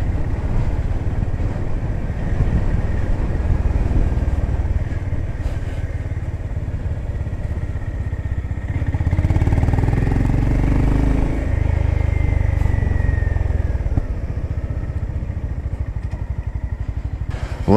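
A 2025 Honda GB350S retro single-cylinder motorcycle pulls in second gear, its engine droning continuously up close with a swell in revs midway, then easing back, and no voices over it.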